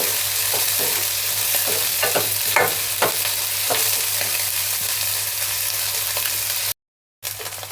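Sliced onions and green chillies fry in a pan with a steady loud sizzle, broken by scraping stirring strokes and a brief dropout near the end.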